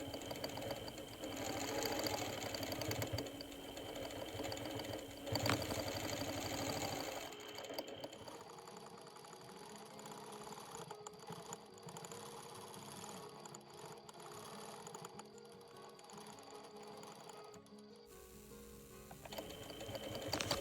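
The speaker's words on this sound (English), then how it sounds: "I decided to mostly just outline the fish and stitch along some of the major elements to help give a little more definition to it." A sewing machine stitches outlines on a quilted fabric panel with a steady, rapid mechanical hum. It runs close and continuous, changing tone and pace partway through, with no talking over it.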